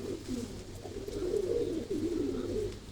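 Pigeons at a loft coo in low, soft, rolling throaty calls, several overlapping in a continuous murmur at moderate distance.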